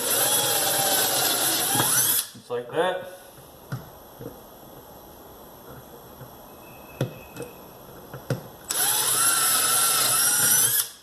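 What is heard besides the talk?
power drill drilling through wood for an arrow dip station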